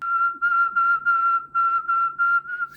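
A single steady whistled tone, broken into about eight quick bursts by cheek puffs, giving a choppy, pulsing warble. Close and clear, with no talking.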